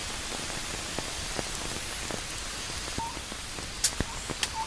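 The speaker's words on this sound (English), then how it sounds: "And watching the raindrops fall was truly wonderful." Rain patters steadily on surfaces in a forest around a small tent, a soft continuous hiss with scattered close drip taps, fairly quiet, and a few faint high tones near the end.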